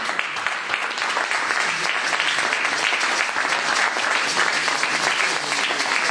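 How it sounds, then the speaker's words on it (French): A church congregation claps through a Sunday service, dense steady applause filling the room, loud and close, with no talk over it. "Applaudisseer voor die."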